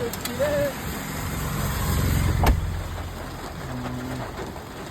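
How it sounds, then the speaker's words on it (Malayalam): Heavy rain pours steadily at a riverside fishing spot in Kerala, a dense hiss holding throughout, with a few faint bird calls and brief sharper spatters rising above it. "നല്ല മഴയും"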